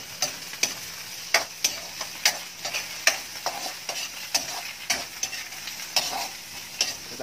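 Onion and tomato sautéing in a pan while a utensil stirs, rhythmic sharp scrapes and taps repeating about every half second over a soft background sizzle, close by and without speech.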